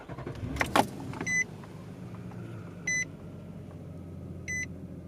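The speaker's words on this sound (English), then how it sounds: "Let's turn the truck on so we can watch it boot up." A 2019 Nissan Frontier SV V6 crew cab truck is switched on, giving a key jingle and click followed by three evenly spaced electronic chimes inside the quiet cab.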